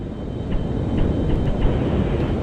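A spacecraft makes a vertical takeoff in a space flight simulator game, giving a loud, steady engine roar with a low rumble that holds evenly throughout.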